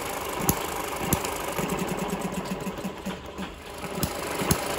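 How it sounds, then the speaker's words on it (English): A freshly oiled Eachine ET6 small model engine idles with a fast, buzzy mechanical chatter, a few sharper knocks at intervals, running steadily on its own. "So we're just going to oil the engine up now and go for a longer run."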